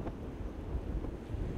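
Strong sea wind buffets a microphone on a fishing boat, a low rumbling gust with wave wash beneath, steady and close, with no voices.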